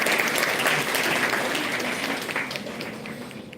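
Audience applause at an International Women's Day celebration, a continuous wash of many hands clapping close and full, gradually fading toward the end.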